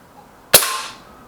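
Lee Enfield Sentry air rifle firing an Air Arms Diablo Hunter pellet, one sharp, close crack followed by a short ringing decay, with no talking.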